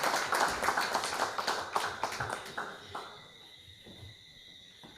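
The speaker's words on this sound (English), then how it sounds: "let's give her a round of applause" An audience applauds at a youth appreciation awards ceremony, with brisk clapping that thins out after about three seconds into a quiet, near-silent room.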